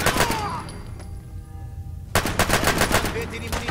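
Automatic gunfire in Fallout 4 rattles in rapid bursts, loud and close, pausing briefly before another sustained volley of machine-gun shots.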